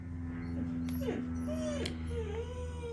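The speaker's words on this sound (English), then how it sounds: "if you hear my dog whining in the background" A dog whining in the background of a craft room, thin rising and falling whimpers repeating over a steady low hum, moderately distant and fairly faint.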